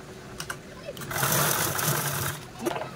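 A sewing machine stitches folded fabric edges for a small pencil pouch, giving a close, steady whirring run of about a second and a half between softer handling noises.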